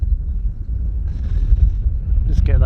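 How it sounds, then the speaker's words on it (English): Gusty wind buffets the microphone outdoors on a hillside by an old Iron Age Pictish hill fort, a steady low roar with rising and falling gusts throughout and a brief brighter rustle near the end. "So it's a windy day"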